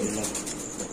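A male pigeon coos softly in a brief, faint burst, with the low rolling call standing alone.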